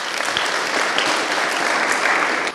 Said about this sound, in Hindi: जोर से तालियां बच्चे के लिए।